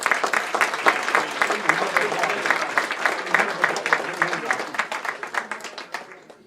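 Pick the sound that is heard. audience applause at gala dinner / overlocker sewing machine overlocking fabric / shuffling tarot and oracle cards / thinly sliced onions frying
audience applause at gala dinner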